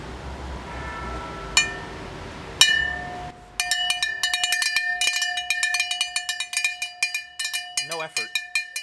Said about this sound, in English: So we're gonna see if it's a little bit louder than normal with my cowbell.